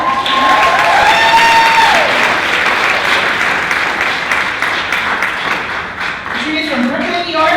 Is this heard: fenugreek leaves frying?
no